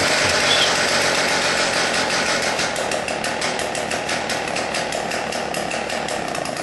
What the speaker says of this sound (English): we want to pull the rope starter and repeat it until the engine starts